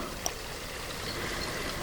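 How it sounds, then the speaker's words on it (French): A thin, quiet trickle of water runs steadily and faintly throughout, a soft continuous wash with no voices, like a small stream barely audible in calm surroundings. "Seulement un filet d'eau, si discret qu'il aurait pu passer inaperçu."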